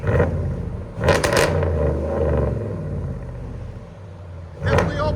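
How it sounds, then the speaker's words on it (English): A RAM 1500 pickup, either the 3.0L Hurricane or the 5.7L HEMI, revs hard twice, each burst of engine roar rising over a steady low idle rumble, close by and loud with no talking. "Give me gas. Rev it."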